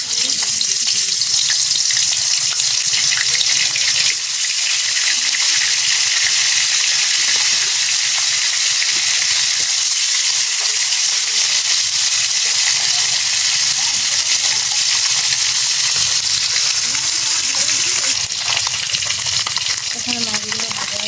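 Fish frying in hot oil in a home kitchen, a loud, continuous close sizzle and crackle that holds steady for the whole stretch, with only slight swells and no clear talk.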